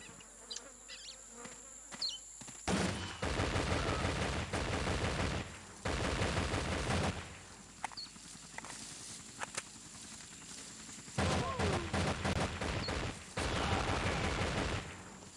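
Sustained bursts of rapid gunfire in the video game Line of Sight: Vietnam come in several long volleys with brief pauses between them, loud and dense, with no talking.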